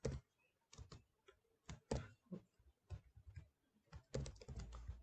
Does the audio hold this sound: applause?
no